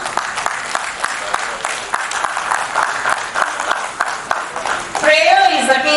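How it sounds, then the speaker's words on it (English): Steady applause from a crowd at an inauguration session fills the space for several seconds before a voice starts speaking at the end. "Let us welcome him with a big round of applause."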